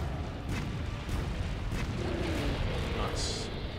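Cannon fire in Monster Hunter World, a few muffled booms under a steady low rumble of battle noise, fairly quiet and distant.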